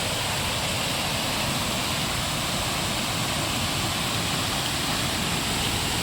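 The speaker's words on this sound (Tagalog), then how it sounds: "Ito po yung waterfalls, oh." A loud, steady roar of a natural-spring waterfall on farmland among many trees, dense rushing water filling the whole clip without pause, close and with no voices.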